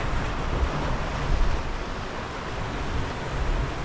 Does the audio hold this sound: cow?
no